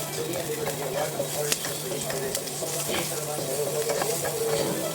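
Onion frying in a little oil in a pan, a continuous crackling sizzle with occasional stirring clicks, steady and close, under faint talk.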